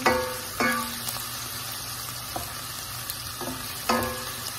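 Chopped onion frying in oil in a pan for Filipino-style beef qeema, a steady broadband sizzle with clattering stir strokes at intervals.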